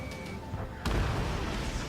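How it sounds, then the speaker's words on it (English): Missile fire in the Ace Combat 7 combat flight game, a sudden loud blast and rushing roar cutting in midway over engine drone and a faint radio tone. "Missile fire! Evading!"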